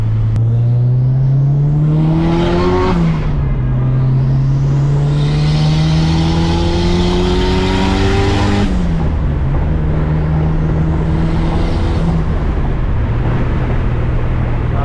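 Loud, close car engine with an open wastegate screamer pipe and no recirculation, revving through repeated gear pulls, each rising pitch dropping sharply with a whooshing, hissing burst as it shifts, continuous throughout.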